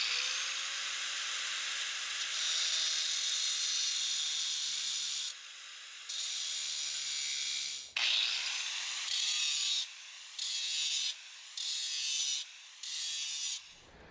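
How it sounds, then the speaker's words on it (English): A plain angle grinder with a diamond blade cuts stone, a loud high whine that drops in pitch as the blade bites, then revs back up in repeated short bursts toward the end, close and without talking. "I've got just a plain old angle grinder with a diamond blade,"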